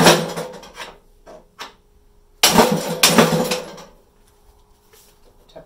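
Hammer tapping on the drive gear of an Ariens snow blower during repair, a few sharp metallic knocks in two bursts with quiet gaps between, close and fairly loud.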